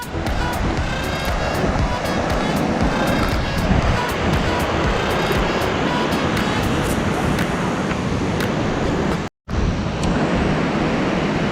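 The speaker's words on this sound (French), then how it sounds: "on s'est posé sur une magnifique plage sur Stradbroke Island" Waves wash steadily onto a beach on Stradbroke Island, a constant close roar of surf with wind buffeting the microphone and a brief dropout near the end.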